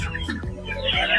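A Chinese duck at a market lets out a few short, harsh calls close by, over faint background market noise.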